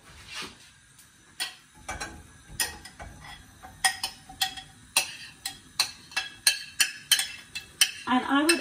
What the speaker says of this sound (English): I would actually leave it to fry away while I find the salt